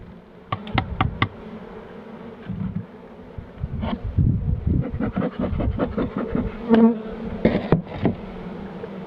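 A dense swarm of bees at an abandoned apiary drones close by with a steady low buzz, punctuated by scattered clicks and light taps.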